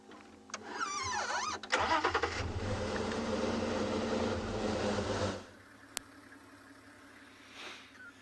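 A safari vehicle's engine rumbles steadily while driving through the morning mist on a sunrise game drive, loud and close for several seconds before dropping away to a quieter idle, with no talking.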